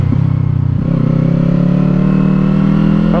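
A Kawasaki Eliminator 450 motorcycle engine idling and then revving, its pitch climbing steadily after a brief blip, loud and close with a slight clatter, no voices.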